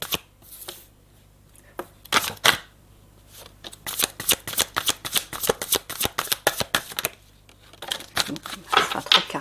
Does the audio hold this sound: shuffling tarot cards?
yes